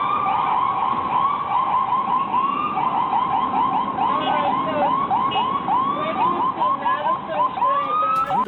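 Ambulance siren wailing loudly in traffic, a continuous rising-and-falling two-tone warble that stays close and steady throughout with no talk over it.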